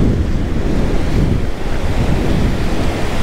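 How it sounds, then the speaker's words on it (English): Surf washes onto a Gulf Shores beach in Alabama, close and loud, with small waves and constant wind buffeting the microphone and no one speaking. "little wave action"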